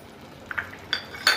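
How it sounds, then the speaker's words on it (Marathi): Half a bowl of sugar going into carrot halwa in a pan: a few close, light clinks and scrapes of a spoon against metal, spaced apart over a quiet background. "ही अर्धी वाटी साखर आपण यामध्ये घालूयात"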